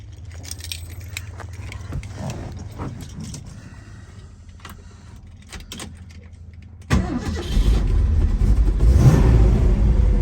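A 1968 Ford Mustang R-code Cobra Jet four-speed coupe, cold with the choke on, has its keys jangle before the engine cranks, catches and settles into a loud, steady idle.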